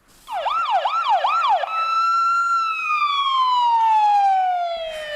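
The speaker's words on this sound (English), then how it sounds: "when you're anxiously waiting for an ambulance, that siren is the most comforting sound in the world" An ambulance siren wails loud and close, a few rapid rising-falling cycles giving way to a long sustained tone that slowly drops in pitch.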